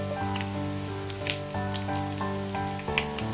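Asafoetida dropped into hot oil for raw mango pickle, with a gentle steady sizzle and small crackles running close throughout, no voices.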